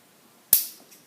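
A mini Lego gun fires a single sharp shot that strikes a popper target, one crisp snapping crack that fades over a short ringing tail in an otherwise quiet outdoor setting.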